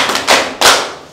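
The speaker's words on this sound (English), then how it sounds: "Clap for her." Classroom applause for a student who answered correctly, heard as two loud bursts of clapping a fraction of a second apart with a brief dip between, close and with no talking.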